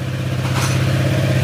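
Motorcycle engine idling close by through a plain pipe with a side cover left open, a steady low throbbing putter with a slight mechanical clatter, brief and unbroken.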